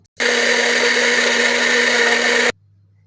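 An electric blender whirs loudly, mixing milk, cocoa and a half cup of sugar for a cake batter, running in one steady burst of about two seconds and stopping abruptly, with no talk over it.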